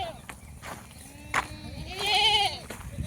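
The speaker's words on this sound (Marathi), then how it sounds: "इकडं रेडकं वरडायला लागली" Hungry buffalo calves on a farm bellow nearby with short, nasal cries, followed by one longer, rising, drawn-out call against a low background rumble.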